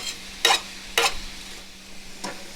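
Broccoli cooking down in a pan used for trout fillets, with a spatula scraping and stirring in three distinct strokes over a soft sizzle, close, with no talking.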